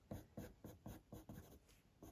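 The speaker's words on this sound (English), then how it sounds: "I'm working with that flat side of my pencil" Coloured pencil shaded with its flat side across drafting film, producing a steady series of soft, close scratchy strokes at an even rhythm, about eight passes, with no voice over them.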